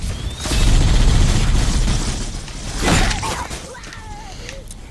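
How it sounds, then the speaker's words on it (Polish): A heavy booming blast with a crashing burst in the game Halo: Combat Evolved, then a second rumbling surge, followed by scattered pops and electronic chirps. "Ten wybuchnąć powinien zaraz"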